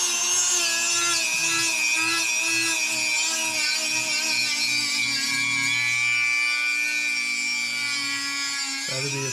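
A Dremel rotary tool grinds the intake port of a J35 engine on an 8th-generation Civic Si, a steady high-pitched whine with a continuous rubbing, abrasive edge, held close and constant throughout with no voices.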